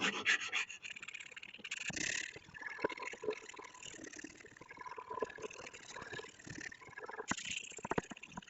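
Steady hand sanding on a Bowie knife blade with 120 grit paper, strokes running perpendicular to the blade, giving a close, rhythmic scratchy rubbing that continues with no talking.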